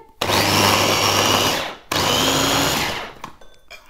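A food processor chops pesto ingredients with garlic and olive oil, whirring loudly in two steady runs separated by a short pause, followed by a few quieter clicks and clatters.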